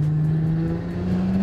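An SUV with a loud aftermarket exhaust and turbo drones with a deep, steady hum at close range, holding a constant low note for a moment.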